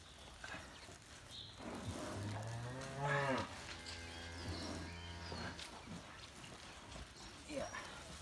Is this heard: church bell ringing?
no